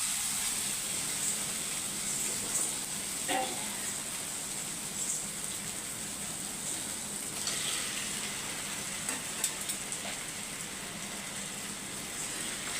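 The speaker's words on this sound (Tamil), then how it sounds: "அப்படியே ஒரு பத்து நிமிஷத்துக்கு சிம்லேயே வச்சு ரோஸ்ட் பண்ணி எடுத்துக்கோங்க" Potatoes roast over a low flame in an onion and tomato masala in a pan, giving a soft, steady sizzle and hiss with a few faint clicks and no talking.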